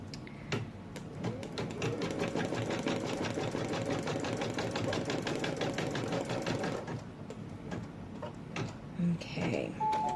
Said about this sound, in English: So let's go ahead and do that tack down stitch